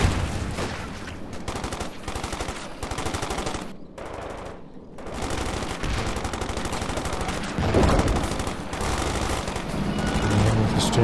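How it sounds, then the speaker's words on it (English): Double LMG machine gun fire from German Obersoldaten in Company of Heroes 2 rips in sustained, dense bursts, near and loud, amid other battlefield gunfire and a brief lull partway through. "The double LMG Obers are really ripping in here."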